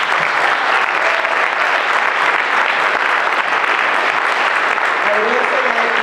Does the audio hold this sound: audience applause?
yes